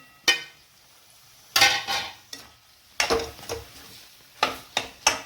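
Paneer and capsicum are stirred into a sizzling masala in a pan, giving several scraping stir strokes in irregular bursts over a faint frying hiss, close by with no voices.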